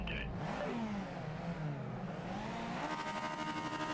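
A racing car engine in the Project Motor Racing video game revs hard at a launch, its pitch climbing and dipping through gear changes, loud and continuous with no talk over it.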